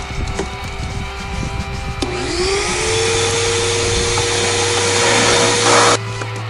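A wet vacuum sucks dirty liquid out of an old vehicle on a homestead, starting with a click and rising into a loud, steady, close whine that gurgles and strains before cutting off near the end.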